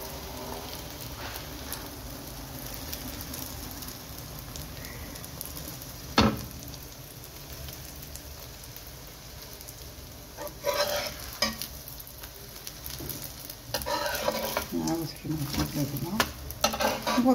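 Flatbread cooking in a dry pan with no oil or fat, flipped and turned as it browns, giving a soft steady sizzle with scraping and stirring bursts that grow louder and busier toward the end.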